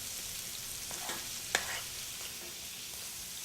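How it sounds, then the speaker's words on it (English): Seafood tossed in a paella pan gives a faint steady sizzle with soft stirring scrapes and one sharp clink partway through, heard alone without talk. "with the seafood, I'm literally just going to toss it up a little bit because I don't want it to overcook"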